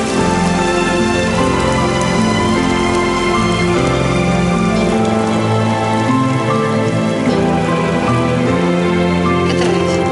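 Steady rain pours down without a break, a loud dense hiss of drops hitting surfaces that fills the scene with no voices heard.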